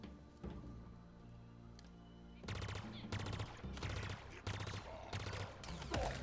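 Video game weapon fire comes in repeated rapid bursts of automatic shots, fairly loud and evenly spaced after a quieter start, with a brief voice near the end.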